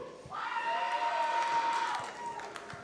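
A small but vocal crowd at a Megacon Orlando 2024 tournament cheers and shouts together for nearly two seconds, rising over a steady tone before fading back into the hall's background murmur.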